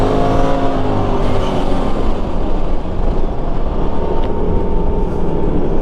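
A Polaris RZR Pro XP with a Stage 3 tune and a snowmobile race across snow, their engines roaring loud and steady as they drone close by throughout, with no talking.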